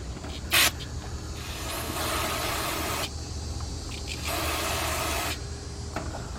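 Two sustained hisses from an aerosol can, each lasting about a second, along with a brief sharp spurt, over a low steady background rumble, while working on a 2006 Jeep Grand Cherokee 3.7 with a broken thermostat bolt.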